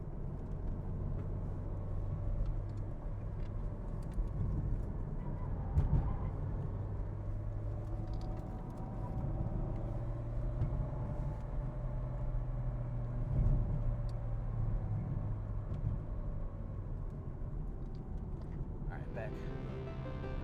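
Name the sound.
1994 Toyota Celica ST205 GT4 driving through corners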